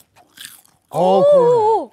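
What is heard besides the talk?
crunchy fried gangjeong snack being bitten and chewed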